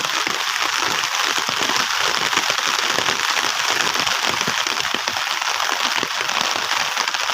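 Rain falling steadily and heavily outdoors, a dense, even hiss of drops pattering on surfaces without pause, close and loud.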